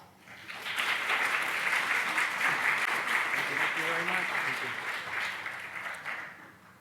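Audience applause fills the room to welcome a guest lecturer at an evening history talk, steady and dense clapping from a sizable crowd that swells quickly and holds before tapering slightly, with a faint voice briefly audible underneath.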